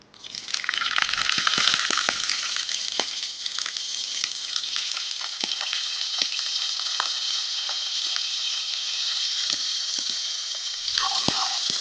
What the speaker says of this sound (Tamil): 2 நிமிஷம் லோ ஃப்ளேமில் அப்படியே நம்ம வதக்கி எடுத்துக்கலாம்